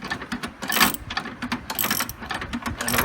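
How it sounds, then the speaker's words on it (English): A ratchet wrench with a 13/16 socket clicks rapidly on the steering nut of a John Deere D-105 lawn tractor, a close, loud string of uneven pawl clicks and mechanical clatter. "and the ratchet will do the rest of the work"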